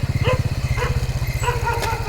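Several dogs bark in a rapid, continuous volley, close and fairly loud, with overlapping yips; a low engine-like drone runs underneath.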